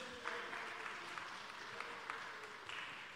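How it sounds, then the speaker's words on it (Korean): Congregation at a Friday worship and prayer service applauding a drummer, a steady wash of clapping from a moderate distance with no talk over it. "박수 한번 쳐주세요"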